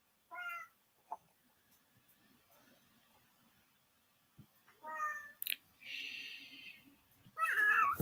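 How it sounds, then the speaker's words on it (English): A house cat meows several separate times indoors, short faint calls rising and falling with quiet gaps, ending in a louder drawn-out cry; soft household noises sit between the calls. "Sounds like my cat."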